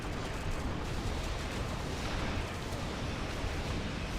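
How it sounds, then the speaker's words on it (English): Torpedoes fire in the space combat game Star Trek: Bridge Commander as AI-controlled Klingon ships engage, producing a dense, continuous rumbling roar of blasts that stays loud and steady throughout, with no voices over it. "Now that was torpedoes."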